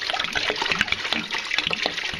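Homemade ginger beer mix is poured through a strainer into a container, making a close, steady splashing trickle with small irregular drips throughout.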